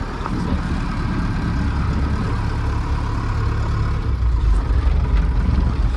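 A band's vehicle reverses at a workshop, a heavy engine idling with a steady low rumble that swells slightly toward the end, close by with no talking.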